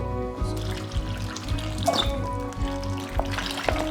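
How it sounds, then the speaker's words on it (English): A whole bottle of Italian dressing glugs steadily onto raw chicken for grilling, a continuous close pour with small splashy bursts and no talking. "to start, Italian dressing right on in."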